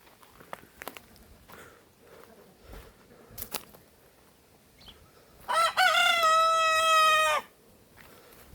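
A brown rooster gives one loud, clear crow lasting about two seconds amid a small backyard flock of brown hens and roosters, with soft scratching and faint clucks before and after.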